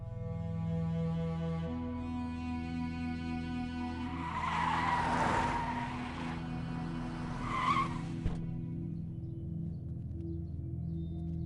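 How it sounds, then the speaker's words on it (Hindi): A car pulls away over a steady engine rumble, its tires squealing and skidding in two sharp bursts midway, then the engine continues alone. "बादशाह, गाड़ी निकलो।"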